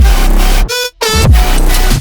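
Portal granular effects plugin processes a full music mix on the master bus, producing dense, loud stuttering texture that drops out abruptly to near silence for a moment before resuming.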